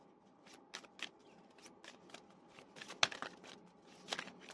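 Tarot cards being shuffled and drawn by hand, a string of soft papery riffles and flicks with a few sharper snaps, close and quiet with no voices.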